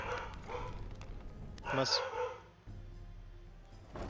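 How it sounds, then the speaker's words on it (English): A dog named Angel barks indoors, a couple of short muffled yips mid-clip, fairly faint, mixed with a man's speech and low household noise. "What are you barking at, Angel?"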